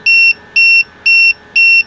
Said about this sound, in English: got a bit of beeping going in here